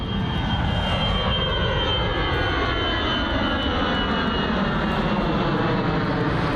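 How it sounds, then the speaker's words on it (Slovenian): Loud, steady roar of a fixed-wing airliner passing low overhead as it lands at or takes off from Larnaca airport, heard from Mackenzie Beach in Cyprus; the engine noise fills the whole stretch with no talking. "kar pomeni, da ti letala dobesedno pristajajo in vzletajo nad glavo"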